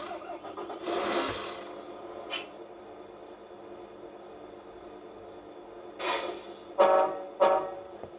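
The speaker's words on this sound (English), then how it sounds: "Engine start." Engine start effect from the sound unit of a Tamiya King Hauler RC truck: a cranking burst, then a low idle with several short rev-like bursts toward the end, moderately loud and without talk.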